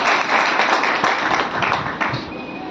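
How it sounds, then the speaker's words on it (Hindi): A seminar-and-celebration audience in Renukoot claps for newly honoured achievers, a close, busy patter of many hands that swells and dips over a few seconds. "इसके लिए आप लोग जोरदार तालियां बजा लीजिए"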